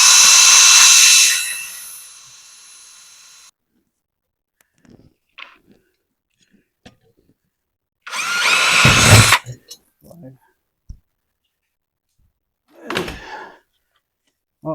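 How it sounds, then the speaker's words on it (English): A power drill bores into a motorcycle top case for a Kawasaki KLX 300, whining loudly at first, then several brief bursts and bumps follow, with a second harsh drilling burst and a later short buzz amid light handling noises. "let's drill."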